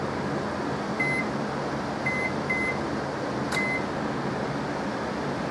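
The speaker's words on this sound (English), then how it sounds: "So they're going in the microwave" Microwave oven running steadily while heating homemade gourmet dog treats made with wheat germ, a constant low hum with a few short electronic beeps and a brief click partway through, no talking.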